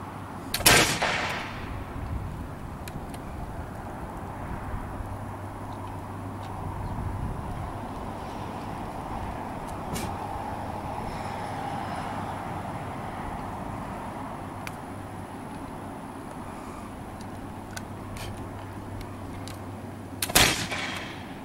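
Two sharp blank shots are fired from a prop gun at a target during a timed outdoor demonstration among spruce pines. One comes near the start and one near the end, with a steady low rumble of background noise between them.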